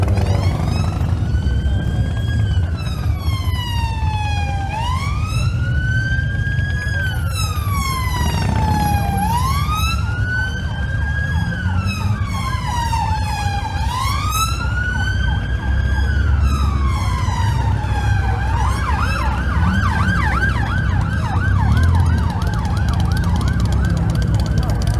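A police car siren wails loudly and close during a Redhill car cruise, its rising and falling tone cycling steadily for a long stretch, with traffic rumbling underneath.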